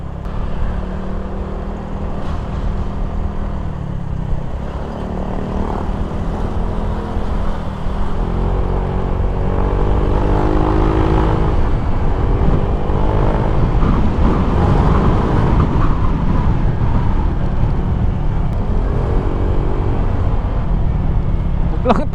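A Honda Click V2 scooter fitted with a TRC Racing aftermarket exhaust pipe runs with a steady, loud engine drone that holds throughout, slightly rising midway, with a voice talking over it.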